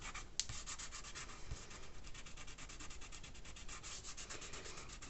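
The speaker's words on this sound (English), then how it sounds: "I'm just coming on with my finger. There's only a few little bits of masking fluid on here and just rubbing left to right" A fingertip rubs dried masking fluid off watercolour paper in a soft, close, steady scratchy rasp, stroking left to right with quick regular strokes and no voices.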